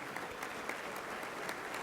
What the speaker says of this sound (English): So please join us in giving these inspirational teachers another big round of applause.